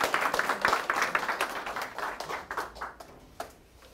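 Audience applause at a Korean civic forum in an Incheon cultural centre, a dense patter of hand claps that holds steady and then thins out, with scattered individual claps near the end.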